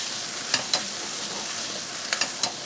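A spoon stirs tomato paste in a pot, making a few quick scraping clicks against the bottom over a soft, steady sizzle with no voices.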